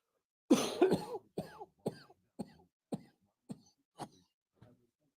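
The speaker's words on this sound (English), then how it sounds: "Sorry for coughing on stream." A fit of coughing: two harsh coughs followed by a string of weaker, evenly spaced coughs that fade out, close to the mic.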